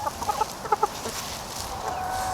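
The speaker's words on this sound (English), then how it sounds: "Are you the chicken who likes to get picked up?" Farm chicken clucking close by in a few quick bursts of short, bright clucks during the first second, followed by quieter steady background noise.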